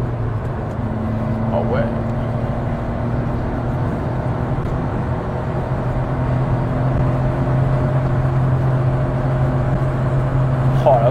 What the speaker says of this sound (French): Le turbo quand il charge.